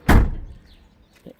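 A 1966 Ford Mustang door shuts with one solid, heavy thunk up close, followed by a brief faint knock as it settles.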